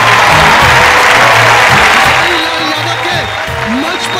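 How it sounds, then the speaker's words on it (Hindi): A loud crowd bursts into sustained applause, dense clapping filling the space while a voice carries faintly underneath. "जोर से ताली बजाई।"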